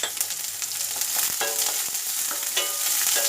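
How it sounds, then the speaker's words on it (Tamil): Chopped onions sautéing in a pan after mustard seeds for egg podimas, a steady loud sizzle with scattered crackles and scraping stirs running throughout, no talk. "வெங்காயத்தை நல்லா வதக்கிக்கலாம்."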